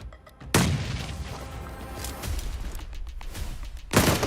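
Grenade explosions in the PUBG Mobile video game: a sharp, loud boom opens the sequence, a dull rumble follows, and a second heavy blast comes near the end, over a low battle din.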